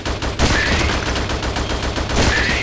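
Rapid gunfire in the video game Attack of the Movies 3D: a dense, loud burst of fast repeated shots with a few sharper blasts, continuous across the moment with no talk.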